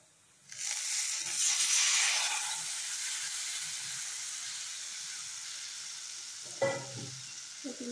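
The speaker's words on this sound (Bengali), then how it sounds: "তেলের মধ্যে রসুন দিয়েছি, রসুনের মধ্যে হালকা হলুদ আর একটু লবণ দিয়ে দিয়েছি" Garlic with a little turmeric and salt dropped into hot oil, a sudden loud sizzle that settles into a steady softer hiss, with a brief clatter of utensils near the end.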